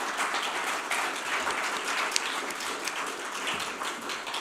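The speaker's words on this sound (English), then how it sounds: "Can we just have a round of applause for the panel, please?" Audience at a science, water and nature conference applauding a panel, a dense, even round of clapping lasting several seconds.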